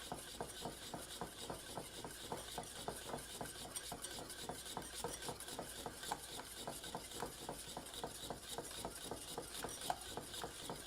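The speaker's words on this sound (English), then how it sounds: "this whisking is helping to make sure it's totally homogeneous, that rosin got broken up" Cheese Whiz with rosin being whisked in a bowl, a steady fast rhythmic scraping and clinking of the whisk that keeps up throughout, close and fairly quiet.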